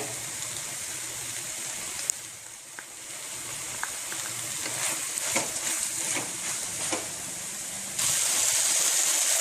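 Washed toor dal goes into a hot pan while cooking a malabar spinach curry, giving a soft steady sizzle and hiss with scattered clicks of stirring, growing louder near the end.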